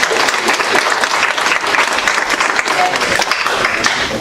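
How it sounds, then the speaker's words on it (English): An audience gives a steady round of applause at a talk event as a speaker from the Doyen Group is welcomed, with dense, continuous clapping close by and no talking. "I want everyone to give a big round of applause to Heather"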